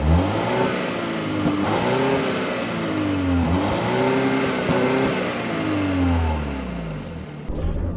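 A 2015 Volvo XC60's turbocharged engine revs up through the gears, its pitch climbing and dropping with each shift as it pulls hard, loud and close, with no talking.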